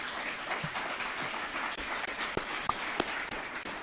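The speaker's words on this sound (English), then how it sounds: "So I'd ask for another round of applause for these 5 individuals." An audience at a candidates' forum applauding steadily, a dense wash of many hands clapping with a few sharper individual claps standing out.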